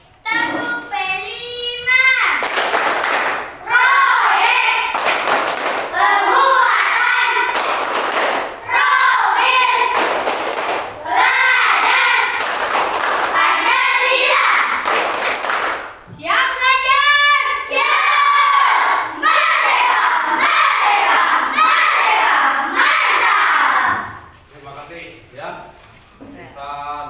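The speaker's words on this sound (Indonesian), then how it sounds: "Kita akan mengadakan tepuk P5." Schoolchildren in a classroom perform the Tepuk P5 clapping chant, loud rhythmic group chanting punctuated by sharp bursts of claps, continuing steadily for most of the stretch with brief pauses between phrases.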